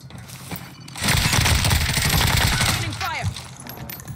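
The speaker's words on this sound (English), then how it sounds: "We're getting sniped at." Sustained burst of heavy gunfire in Call of Duty Warzone on Rebirth Island, loud and dense for about two seconds, then tapering off with mechanical clicks and a voice under it.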